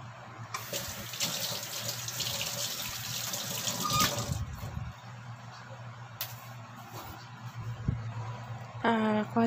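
Hands being washed under a running kitchen tap while cooking maruya banana fritters, a steady rushing stream with splashing that swells and eases, plus a low hum and a brief voice near the end.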